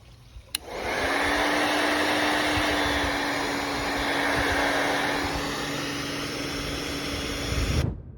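Hairdryer switching on and blowing steadily for several seconds, a loud, even airy roar with a faint hum, then cutting off abruptly; used to spin a small model wind turbine.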